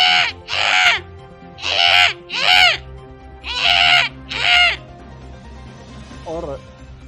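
A voice mimics a crow, giving six loud, nasal caws in three close pairs, followed by quieter room sound and a brief faint vocal sound near the end.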